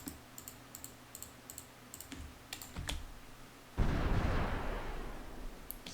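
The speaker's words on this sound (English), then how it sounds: "So I hear some explosions." Naval combat in the strategy game Supreme Ruler Ultimate, heard faintly: a few soft clicks, then a muffled, rumbling explosion burst that lingers for a couple of seconds.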